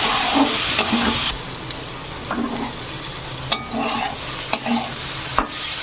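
Lentils (dal) fry in hot oil with spices, giving a steady close sizzle with stirring scrapes and a few sharp utensil clicks against the pan, no voices.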